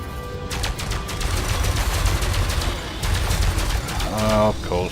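Multi-cannon gunfire in Elite: Dangerous, a rapid stream of repeated shots with a steady rhythm over a low engine rumble, loud and continuous before a few short tonal beeps near the end.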